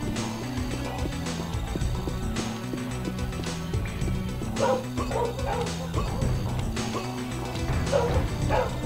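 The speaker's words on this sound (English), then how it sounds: "Whatever the dogs are barking at, who's ever knocking at my front door." Dogs bark and yip over a steady bed of music and mechanical game sounds during a Halloween-themed play session of Unreal, several short barks clustering in the second half, moderately loud and mixed into the background.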